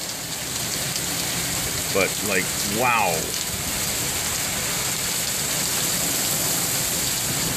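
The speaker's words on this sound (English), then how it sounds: "Just torrential rains" Torrential rain pours down in Manitoba with a dense, steady, close hiss. Someone briefly speaks over the downpour partway through.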